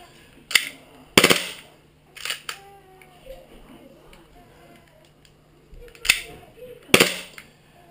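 A KSC Glock 18C airsoft pistol, faulty and meant to fire full auto, lets off a few sharp single pops spaced irregularly over several seconds against a faint background hum.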